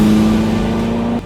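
Ferrari SF90 twin-turbo V8 held at a steady, loud rev with a strong low engine tone and airy turbo whoosh, cutting off abruptly near the end.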